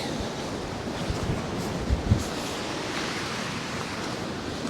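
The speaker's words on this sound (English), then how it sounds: "That wind has picked up big style" Strong storm wind roars across the water with surf and waves breaking while fishing, a steady loud wash of noise with microphone buffeting and a few louder gusts.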